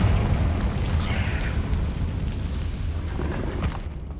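Fiery Confringo spell blasts in the Hogwarts Legacy video game, a sustained rumbling boom with crackling burst texture that fades gradually over several seconds, loud and alone.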